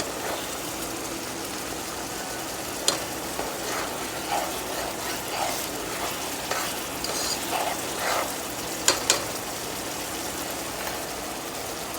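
Onions and beef tips cook in a pan with a soft, continuous frying hiss and a few faint clinks, fairly quiet and without speech.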